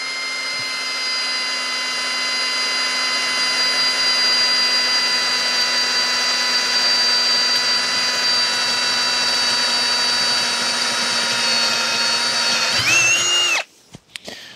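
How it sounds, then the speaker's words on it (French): A Ryobi RPD18X hammer drill bores into metal at slow speed, a loud, steady motor whine held for about thirteen seconds before it winds down and stops abruptly near the end. "Et j'attaque maintenant le perçage"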